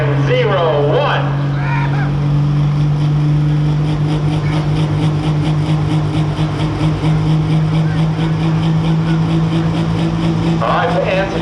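A big-turbo Pro Stock pulling tractor engine holds a loud, sustained drone with a steady low tone at an outdoor tractor pull in Henry, Illinois, while an announcer talks over it near the start and end.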